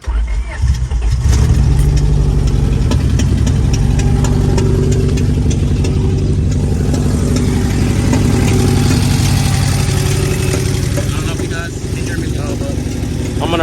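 A car fitted with a new cold air intake starts and settles into a steady, loud, close idle with a low rumble. Someone talks over the engine.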